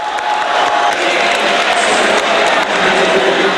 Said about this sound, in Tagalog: Lahat hiyawan at sigawan sa bawat suntok ni Pacman.